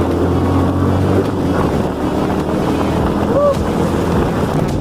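Kenne Bell supercharged New Edge Mustang engine pulling hard through the gears, a loud continuous drone heard from inside the car, with wind buffeting in the background.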